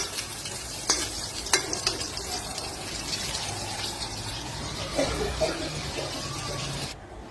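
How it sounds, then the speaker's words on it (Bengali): Lentil fritters fry in a pan with a steady, moderately loud bubbling sizzle and a few spoon taps and clatters, the sound dropping away abruptly at the end. "সেখানে বড়াগুলো হচ্ছে, তারপরে আমি বাকি রান্নাগুলো সেরে নেব এখন।"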